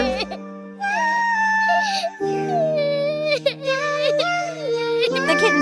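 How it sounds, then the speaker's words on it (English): A kitten cries and whimpers in a run of wavering, high, sobbing wails at moderate loudness, with steady background music beneath. "The kitten is devastated and can't hold back tears."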